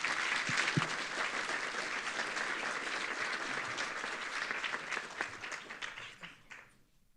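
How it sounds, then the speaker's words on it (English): Conference audience applauding, a dense sustained wash of many hands clapping that tapers off and fades near the end, with no talk over it. "let's give Emily another round of applause"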